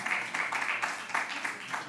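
Steady applause from a crowd, many hands clapping continuously at moderate volume with no pauses.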